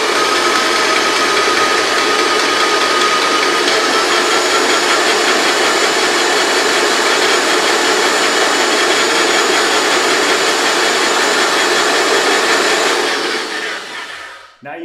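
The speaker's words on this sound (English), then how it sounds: "I'm just gonna turn the sprayer on, and we're gonna purge as much" Paint sprayer purging enamel coating back into the can, a loud steady hissing roar held continuously for many seconds before shutting off near the end.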